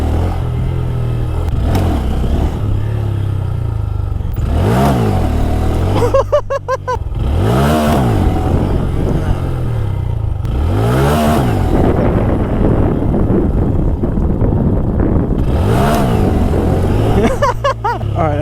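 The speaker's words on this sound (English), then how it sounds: "We're practicing wheelies on the Grom." A Honda Grom motorcycle engine revs repeatedly during wheelie practice, rising and falling in several swells over a steady, loud close-up drone.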